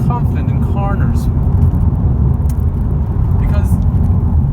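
A 2019 Honda Civic with a 1000 VTEC Turbo engine drives quickly along a back road, its steady low road and engine rumble loud inside the cabin while someone talks over it.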